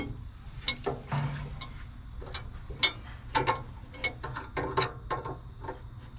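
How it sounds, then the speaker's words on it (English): A screwdriver tightening a screw on a pellet grill, with a run of irregular clicking, ratcheting turns and small metallic knocks, close and fairly clear. "So I'm just going to tighten that screw up there."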